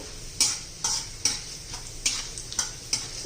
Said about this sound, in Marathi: हरभरा डाळ मूग डाळ उडी डाळ पण चालते छान असं तेलामध्ये आपण हे परतून घेऊ